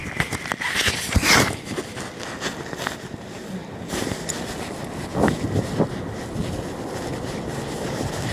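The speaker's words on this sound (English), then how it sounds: "Windy." Wind buffets the microphone outdoors at a construction area, a loud continuous rumbling roar with gusty bursts, with faint traffic-like noise underneath.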